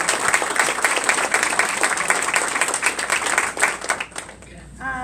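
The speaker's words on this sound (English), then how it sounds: "So one last round of applause." Audience at a school district board meeting giving a sustained round of applause, dense steady clapping close by that fades out near the end as a voice begins speaking.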